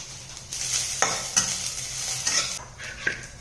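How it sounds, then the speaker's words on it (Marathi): Dry coconut and coriander seeds roast in a pan, stirred with a spoon that scrapes and rustles in short bursts, with a light crackle and clinks of metal close by. "इथे मी सुकं खोबरं घेतलेलं आहे, ते मी याच्यामध्ये भाजून घेणार आहे"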